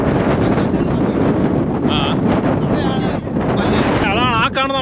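Strong wind gusting across the Attapadi hilltop in Palakkad, a loud, constant roar buffeting the microphone throughout, with brief faint higher tones near the end.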